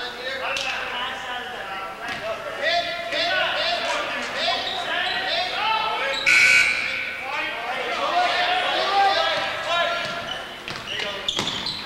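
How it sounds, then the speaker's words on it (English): During a 1996 college basketball game between Westbrook College and Lyndon State, a brief buzzer sounds in a busy gym, partly masked by crowd noise, squeaks and a commentator talking throughout. "Buzzer goes off"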